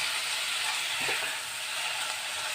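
Chopped taro leaves (kochu shak) sizzle and hiss steadily in a hot pan as they are stirred, a dense, even frying noise with a brief scrape of stirring partway through.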